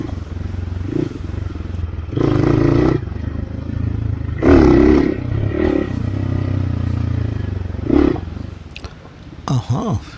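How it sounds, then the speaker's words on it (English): A Hero Xpulse dirt bike rides a trail with a steady loud engine drone that swells in a few throttle surges, along with wind rumble and clatter, while riders talk over it. "We're on dirt bikes."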